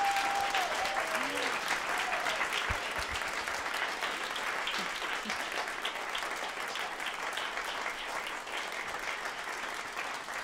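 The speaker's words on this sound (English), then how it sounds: "Another round of applause." Sustained audience applause at a concert in a small performance studio after a chamber string ensemble and flute performance, dense and even clapping throughout with a brief whistle near the start.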